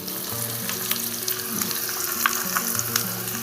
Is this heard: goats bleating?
no